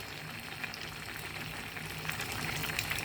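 Raisins simmer and reduce in a pan for sweet couscous tfaya, with a steady close bubbling hiss that grows slightly louder and busier toward the end.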